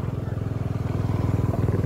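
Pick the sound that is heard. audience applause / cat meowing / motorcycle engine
motorcycle engine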